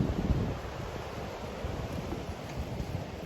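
Outdoor wind blowing at a rural picnic spot, a steady broadband rush with low buffeting rumble against the microphone, continuous and fairly loud with no voices.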